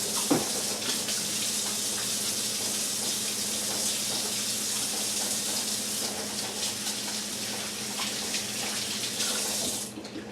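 Hands are washed in hot soapy water at a kitchen sink. A steady faucet stream runs with splashing and rubbing for about ten seconds, then cuts off abruptly.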